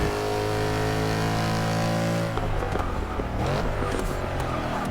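A car engine revving under throttle, a loud sustained harmonic drone that breaks off midway into rougher, choppier engine noise with scrappy bursts, close and continuous.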